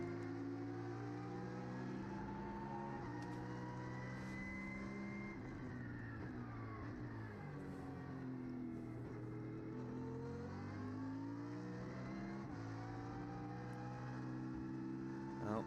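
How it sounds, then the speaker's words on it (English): A BMW race car engine drones and revs as the car laps the Valencia circuit, its pitch sweeping down and back up as it passes at a distance. "I think we should shut up for a moment and hear the BMW."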